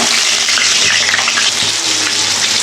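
Potatoes fry in plenty of hot oil with a loud, dense, close sizzle that stays continuous and even, with faint stirring clinks and no voices.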